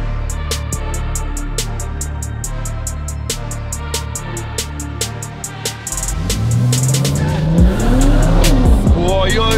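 A BMW 340 races an Audi RS, with repeated close engine revs and gear shifts followed by rising acceleration, whining engine tones and tire noise as the cars pull away at speed.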